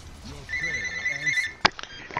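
A telephone ringing while someone plays a video game, a sustained electronic ringing tone with bright harmonics lasting over a second, under a voice and game sounds.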